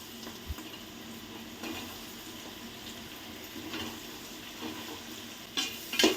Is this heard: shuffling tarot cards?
no